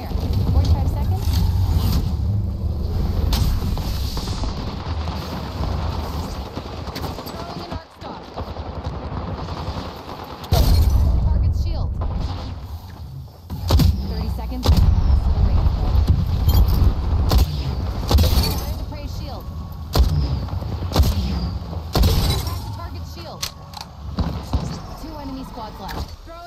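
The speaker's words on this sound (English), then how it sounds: "Taking fire." Rapid bursts of automatic gunfire and single shots in a battle royale shooter video game, dense and loud, repeating throughout over in-game effects, while a voice talks over much of it.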